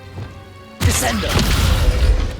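A Descendo slam spell in Hogwarts Legacy: after a short quiet lead-in, a sudden heavy crashing impact bursts in and rumbles on loudly to the end.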